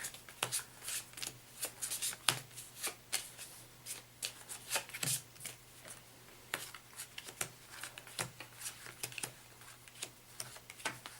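Trading cards from the obscure Ani-Mayhem game being shuffled and dealt face down, a steady run of soft riffling flicks and crisp card snaps, close and quiet with no talk.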